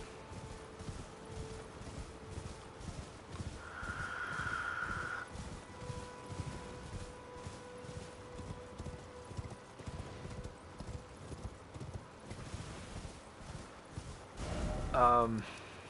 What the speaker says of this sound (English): Once here, call your horse.